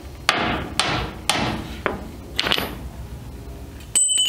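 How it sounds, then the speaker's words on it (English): Four loud hammer strikes ringing on a Chevrolet S-10 steel frame at an even pace, then a few lighter clanks and a short scrape. "Take your hammer, beat it back and forth if you want."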